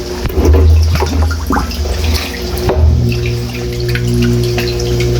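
Water gurgles and sloshes as it drains to one side of a tilted drum used for raising catfish, a close, continuous wet churning with a few splashy bursts.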